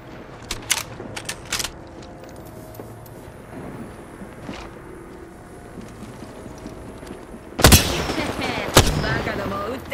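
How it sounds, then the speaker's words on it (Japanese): Gunfire in the battle royale game Apex Legends: a few sharp shots early, then a louder burst of several rapid shots near the end over a steady game background. "バカどもを撃ってるよ"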